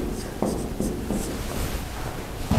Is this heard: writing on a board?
yes